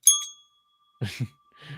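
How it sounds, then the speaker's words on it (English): A single bright bell ding rings out with a long sustained ringing tone, followed by brief unrelated voices after a pause. "I get a bell."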